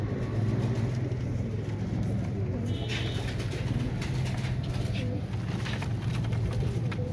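Royal Teddy breeder pigeons cooing in a loft, low steady coos repeating throughout over a constant background hum, with faint bird chirps mixed in.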